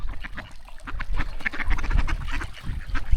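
A flock of ducks quacking busily and continuously by a river in freezing winter weather, fairly close, with overlapping calls against faint outdoor background noise.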